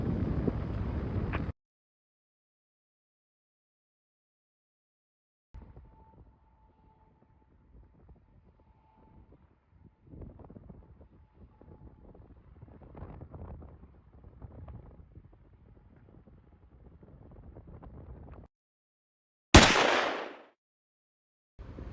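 Strong wind rumbles and buffets the microphone in gusts, with loud blasts at the start and near the end and quieter stretches between.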